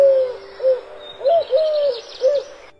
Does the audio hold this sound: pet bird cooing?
yes